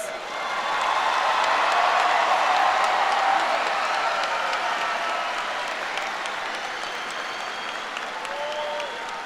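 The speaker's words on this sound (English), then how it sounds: "Let's give one last round of applause for all of our graduates." A large audience at a high school commencement applauds the graduates, a dense, loud wall of clapping that holds steady and then eases slightly, with no talk over it.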